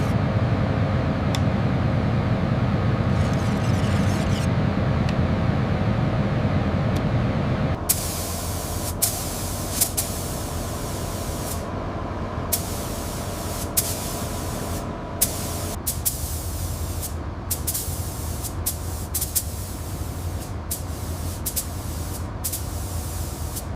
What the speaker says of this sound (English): Here we see the 1982 Silver Spirit receiving its crucial sealer coat.